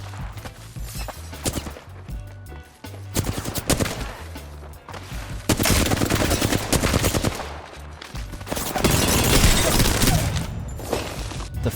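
Apex Legends gunfire: bursts of rapid automatic shots and single cracks come in clusters over several seconds, loud and close, with shell clinks and game effects between the volleys.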